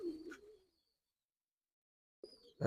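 A pair of young pigeons: one coos briefly at the start, then silence, and another short low coo returns near the end.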